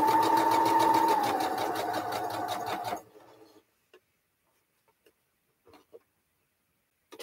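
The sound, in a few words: sewing machine stitching patchwork quilt block pieces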